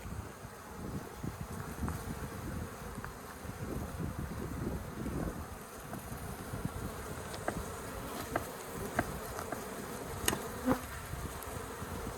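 Bee colony buzzing while being removed from a bird house, a dense, continuous insect drone close to the microphone, with occasional light knocks and handling sounds.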